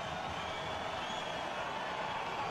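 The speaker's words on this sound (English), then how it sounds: "Look at the crowd." A rugby test-match crowd, Brazil against the Maori All Blacks, roars in a steady, dense wash of distant cheering that holds without a break from start to finish.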